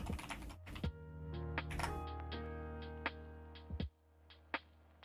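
Keys clack in quick, uneven bursts on a new computer keyboard, close and crisp, with a steady hum beneath and a few louder isolated key strikes near the end.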